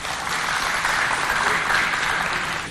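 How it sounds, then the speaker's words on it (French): An audience at a school quiz competition gives sustained, even applause for a team, a dense wash of clapping heard alone and at steady loudness. "Des applaudissements encore."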